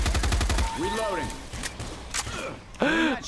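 Bursts of gunfire in the zombie shooter Left 4 Dead 2, rapid shots rattling loudly over game noise and effects, with a voice talking over the action.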